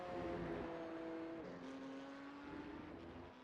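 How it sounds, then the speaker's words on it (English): Porsche Cup race car at Okayama circuit, engine droning steadily at mid distance with a short upshift partway through as the pitch drops and holds, no voices. "you can just hear a little bit of short shifting there, just trying to keep the car in check on that rear"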